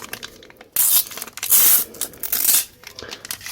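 A Euro 2000 football card pack is torn open up close, giving a few short, sharp ripping and crinkling bursts of wrapper with no talking.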